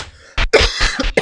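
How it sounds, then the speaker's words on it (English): A single harsh cough, close and loud, then two or three shorter cough bursts in quick succession. "Sorry, I've been coughing a lot."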